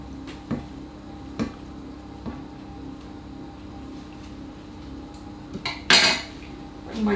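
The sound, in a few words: scraping chocolate cream off a spoon into a bowl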